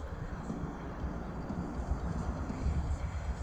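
An FPV quadcopter drone with high-quality HQ plastic props flies nearby. It gives a continuous, fairly loud buzzing roar that swells slightly and is mixed with wind rush.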